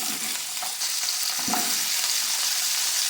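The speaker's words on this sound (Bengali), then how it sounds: "এবার তেলের মধ্যে পেঁয়াজ, আদা, রসুন, কাঁচা লঙ্কা, টমেটোটা একটু ভেজে পেস্ট করে নেব।" Onion, ginger, garlic, green chili and tomato fry in hot oil for a Bengali pomfret fish curry, giving a steady, close sizzle with light stirring scrapes throughout.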